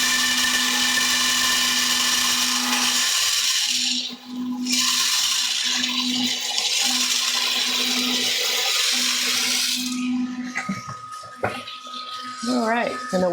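A coffee roaster's stirring arm hums and whirs steadily, then beans pour in near the end with a brief rattling clatter.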